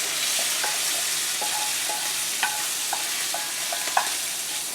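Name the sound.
thinly sliced pork pieces frying in a pan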